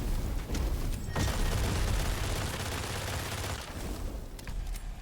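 Gunfire from another player in an online shooter game: dense, loud bursts of rapid shots roll on without a break for several seconds, with no talking over them.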